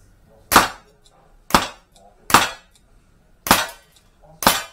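Five sharp, loud pistol shots from a 1996 Beretta 92 FS ring out at the range, spaced roughly a second apart, each a crisp crack with a short fading tail.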